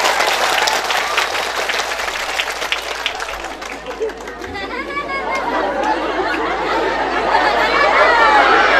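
Applause and crowd chatter from an audience at a Sundanese religious talk by a young preacher, a steady loud wash of clapping mixed with voices and calls through the whole stretch.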